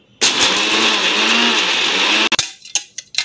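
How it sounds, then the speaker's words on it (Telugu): A kitchen mixer grinder pulses sesame seeds and peanuts in one loud, whirring burst of about two seconds that cuts off abruptly, followed by a few rattling knocks of the jar. "ఈ మిక్సీకి వేసుకుంటున్నానండి నువ్వులను, తర్వాత పల్లీలు పచ్చాక జస్ట్ పల్స్ ఇవ్వండి అటు ఇటు."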